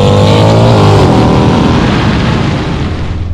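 A 2008 Mercedes-Benz AMG C63 V8 with an IPE exhaust tip and stock headers revs loudly and very close, a deep throaty roar climbing in pitch, then rasping as it winds down, with no talking.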